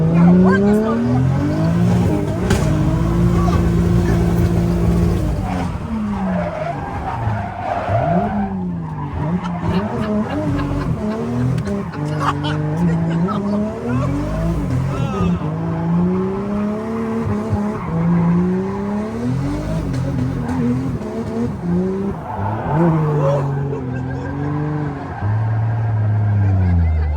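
A car with a 500 hp naturally aspirated RB25DE engine is driven hard, its loud engine note rising and falling through revs, with tire squeal and skidding, while people talk and shout excitedly over it.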